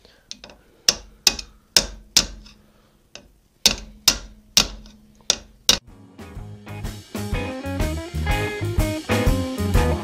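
Sharp metallic hammer strikes, about a dozen spaced blows ringing briefly, followed by a few seconds of busy background music.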